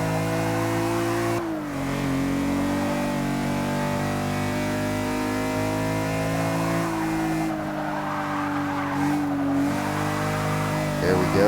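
A B-Class BMW M6 engine in Forza Motorsport 6 drones loudly at high revs, dipping and climbing as gears shift and throttle lifts, with faint tire squeal, alone and continuous.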